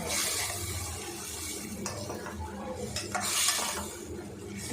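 A spoon stirs and scrapes ground coconut paste sautéing in a metal pot for a Chettinad-style okra curry, with repeated clinks and scraping strokes over a light sizzle, close and fairly loud, no voices.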